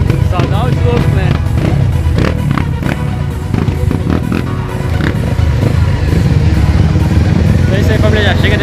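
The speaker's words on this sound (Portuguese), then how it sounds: "Estamos no evento pesado aqui de moto de trilha" Trail dirt bikes rev loudly at an off-road event, their engines snarling and surging in close bursts with clattering, while a voice talks over the noise.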